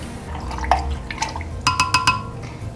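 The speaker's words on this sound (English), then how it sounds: "I'm just gonna give this a stir" Dry active yeast being stirred in a bowl for bread dough, a few close clinks of utensil against the bowl with light liquid swishing, ending in a quick rapid series of taps, no talking.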